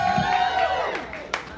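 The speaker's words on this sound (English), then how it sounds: "Clap it up for that poet." An open mic crowd cheers and claps for a poet, a short burst of whoops and applause that trails off, with a sharp clap-like spike near the end.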